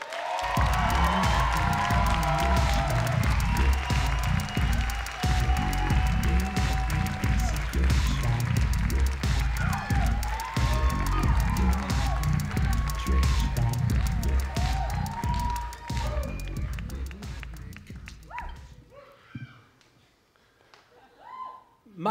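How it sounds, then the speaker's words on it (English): Live audience at a storytelling night clapping and cheering for a storyteller, a dense, full round of applause with some whoops that holds steady for a long stretch before thinning out and fading near the end. "Please give a warm round of applause for Keith Mellnick."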